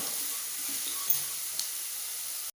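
Mushroom Manchurian sizzles and fries in a pan, a steady soft hiss with a couple of faint clicks of stirring, heard alone until it cuts off.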